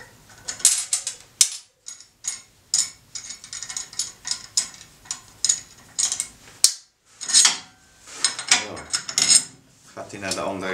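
A table saw rip fence is loosened and slid along the saw table in a run of sharp mechanical clacks, ratcheting clicks and scraping slides, close and loud.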